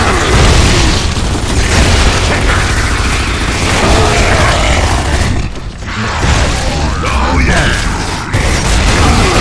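Heavy booms and explosions from bombing grubs in the video game Gears of War 3, a loud, dense wall of blasts and mechanical rumble that briefly dips near the middle before surging again.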